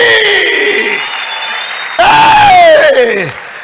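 A church congregation claps in praise to God during a lively service, loud and close, while voices shout and cry out over the clapping in rising and falling tones.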